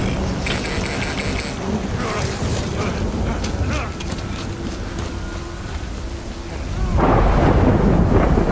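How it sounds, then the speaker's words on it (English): Rolling thunder rumbles over steady heavy rain in the video game Death Stranding, loud and continuous, swelling into a bigger crash near the end. "Good thing it was raining."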